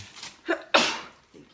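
One sharp sneeze indoors during a family Christmas gift opening, a quick inhaled catch followed by a loud burst, close and alone with no talk over it.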